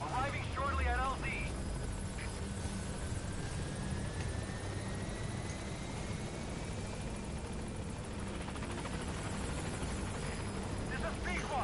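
A support helicopter in Metal Gear Solid V arrives at a landing zone, its rotor and engine a steady, loud drone throughout, with a radio voice speaking briefly near the start.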